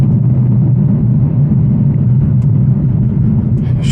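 The 810-horsepower Whipple-supercharged Ford Shelby GT350 engine gives a loud, steady, deep drone while driving, heard from inside the cabin. The low rumble holds even throughout, with no voices.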